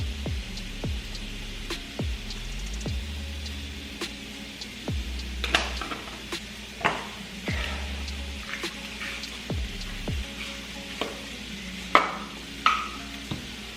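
Italian sausage frying in a pan and being broken up with a utensil, a soft sizzle beneath irregular clicks, taps and scrapes, close and fairly quiet.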